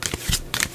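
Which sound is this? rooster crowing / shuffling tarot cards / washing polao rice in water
shuffling tarot cards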